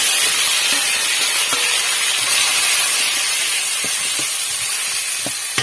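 Onion, tomato, cumin paste and garlic paste hit hot oil together, making a loud, dense hissing sizzle that holds steady throughout, with a few faint clicks underneath.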